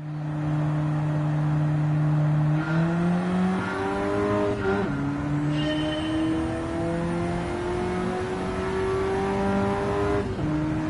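A Mercedes-AMG A45 races in Gran Turismo 7, its engine droning steadily and then climbing through repeated gear changes, a loud and unbroken note with no talk.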